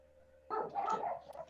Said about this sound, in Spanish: Hay mucho ruido, mis perros ladran.